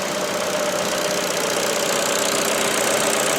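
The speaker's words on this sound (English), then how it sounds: "how smooth the engine is running." A 2017 Ford C-Max 1.6 petrol engine idles with an even, continuous running hum and a faint rhythmic knock underneath, close by and without voices.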